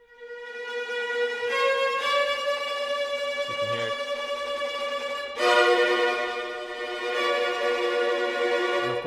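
Sampled orchestral violins play tremolo inside a film-soundtrack template, a dense, sustained bowed chord that holds steady, then swells louder about halfway through. A short spoken phrase briefly sounds over the strings.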